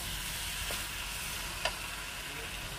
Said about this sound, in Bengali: এবার এর মধ্যে জলটা দিয়ে দেবো